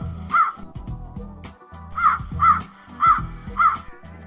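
A cartoon crow caws five times, loud and close, in short harsh calls spaced across a few seconds.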